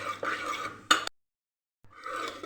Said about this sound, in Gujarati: તો અહીંયા આપણી મસ્ત એવી દાળ બફાઈ ગઈ છે આવી જ રીતે આપણે એને હલાવી લઈશું